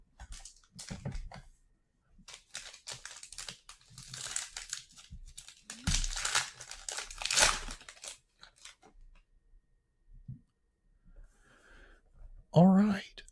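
Crinkling foil wrappers on Topps Tier One baseball card packs give bursts of rustling and tearing close up, interleaved with a person talking.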